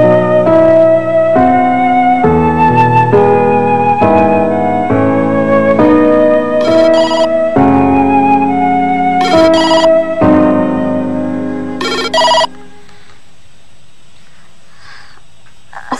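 A telephone ringtone plays as a loud, steady melodic tune of repeated tonal phrases for about twelve seconds, then cuts off abruptly, leaving a quiet room tone with no talking.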